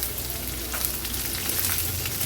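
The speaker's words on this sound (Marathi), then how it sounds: "चमचाभर मी पांढरे तीळ घालते फोडणीला." White sesame seeds sizzle and crackle in hot oil for a tempering, a dense, continuous close frying hiss with small pops and no talking.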